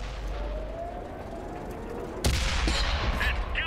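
The Waffentrager tank's gun in World of Tanks fires a single loud, sharp boom over steady engine rumble, followed by a brief mechanical rattle; a voice exclaims briefly.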